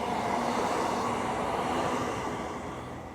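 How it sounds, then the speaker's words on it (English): A train passes through Apperley Bridge station, a loud, continuous rumbling roar close by that gradually recedes and softens toward the end. "I'm about to get interrupted by a train"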